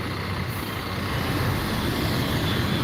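Heavy buses and trucks crawling in congested night traffic at Bulak Kapal, Bekasi, with buses circling to pick up passengers; a steady, loud low engine rumble and road roar fills the whole stretch with no talk.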